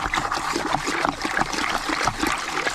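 Pond treatment being stirred by hand into koi pond water, a steady close trickling and splashing churn with no speech.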